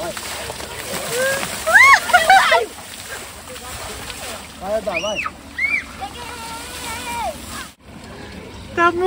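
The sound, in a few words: water splashing at a water park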